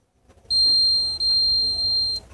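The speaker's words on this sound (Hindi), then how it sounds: "मैं यहाँ पर ये जो बजर है इसकी टेस्टिंग भी आपको दिखा देता हूँ" A small electric buzzer for a homemade continuity tester sounds a steady high-pitched tone for about two seconds with one brief dropout. It is loud and close over faint background hiss.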